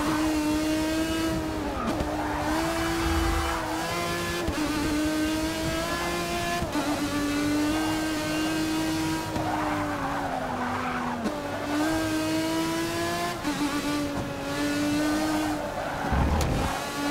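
Race car engine in the Forza Motorsport 6 racing game, revving steadily with a rising and falling tone through shifts, with occasional tire squeal and skidding, loud and continuous throughout.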